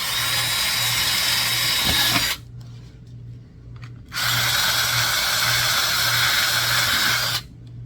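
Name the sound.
drilling through a support bracket of a submarine model kit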